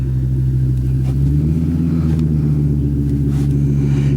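Diesel vehicle with an oversized exhaust rumbles nearby, a deep, steady throbbing drone that holds for several seconds without pause.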